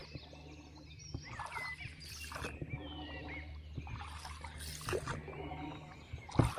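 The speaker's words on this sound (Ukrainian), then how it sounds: "Пливу, друзі, до берега вже." Oars dip and pull as a boat rows toward shore on a large river, soft splashes and drips in an uneven rhythm with creaks, close and fairly quiet.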